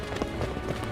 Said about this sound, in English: The footsteps lead here.